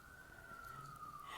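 Emergency vehicle siren passing at a distance, a single steady wail that bends slightly in pitch, faint and alone.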